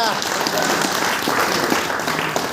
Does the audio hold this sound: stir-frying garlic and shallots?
no